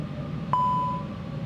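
A single clear electronic cockpit alert beep, warning of hot brakes in a flight simulator game, chimes once and rings out briefly over a low steady engine hum.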